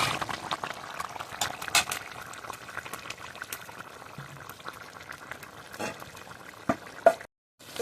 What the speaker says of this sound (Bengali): আর একটু ঝোল মেরে নেবো